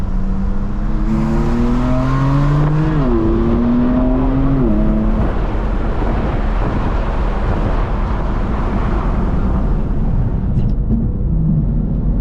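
A powerful BMW M4 CS engine revs hard, its pitch climbing in rising sweeps with brief dips at gear changes, then settling into a loud sustained roar.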